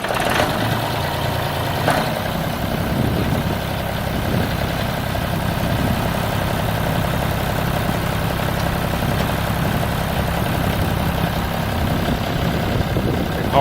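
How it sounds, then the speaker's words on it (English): A John Deere 5400 tractor with a 68-horsepower engine runs steadily at idle, a loud, close, low diesel rumble with a faint knock throughout and no talking. "shooting the John Deere 68 horsepower 5400"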